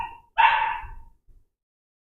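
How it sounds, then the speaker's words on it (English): Dogs fighting over food: a single sharp, close bark with a short snarling tail, followed by a faint low rumble and then quiet. "We have the dogs fighting over what they're going to eat."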